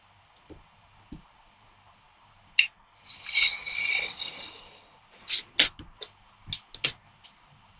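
An NT cutter knife slices wet gouache paper along a metal ruler, giving a drawn-out scratchy cut followed by a quick run of short clicks and scrapes, close and fairly quiet.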